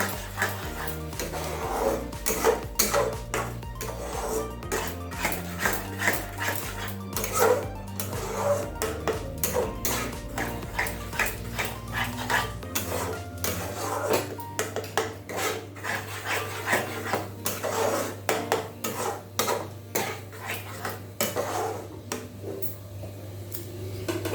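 A spoon scrapes and rubs around a pot as fresh cream is stirred into soybean kurma, repeated rasping strokes in a steady rhythm close to the pot, with a low hum underneath.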